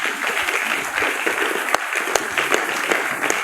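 Congregation applauding the Lord during a church service, steady dense clapping from many hands throughout with a few sharper individual claps standing out.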